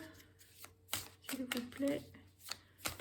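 Tarot cards being shuffled and drawn by hand, giving quick papery riffles and soft slaps in separate bursts, with a voice talking quietly between them.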